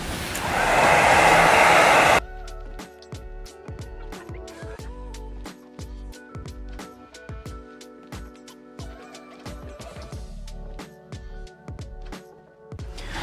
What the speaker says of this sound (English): just grab your heat gun. You could use a hairdryer or a regular heat gun